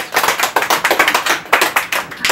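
Audience clapping at an event, a close, brisk patter of many hands in quick uneven bursts, loud and dry, with no talking over it.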